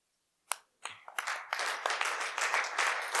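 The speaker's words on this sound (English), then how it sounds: "Clap well like you mean it, right?" Audience at an energy technology pitch competition standing and clapping, starting with a few scattered claps that quickly swell into sustained, dense applause from a crowd.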